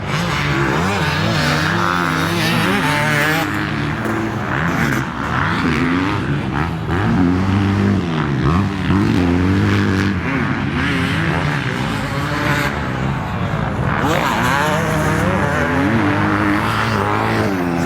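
Motocross bikes race in the MX Open Moto 2 at the East Coast round 4 in Goulburn, Australia, with several engines wailing and shifting pitch as they rev and pass, loud and continuous throughout, with no talking.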